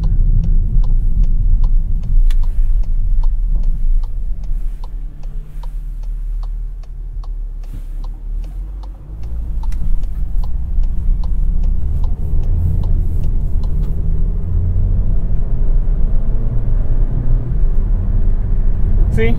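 A 2022 Volkswagen Taos pulls out and accelerates onto tarmac in eco mode, heard from inside the cabin as a steady loud engine and road roar with a brief dip and then rising drone, plus faint repetitive ticking.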